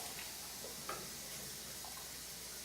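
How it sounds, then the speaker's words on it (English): Water runs steadily from a kitchen tap into a can while beef chili is being made, a constant soft hissing splash at low volume with no talk. "Fill this up with water"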